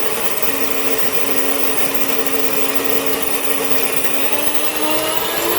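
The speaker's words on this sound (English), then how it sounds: "what that's doing is it's cleaning your burrs on your mill" An electric grain mill runs steadily while grinding grain into flour, a loud continuous whirring drone with a faint sustained whine. It is close and constant, with no talking.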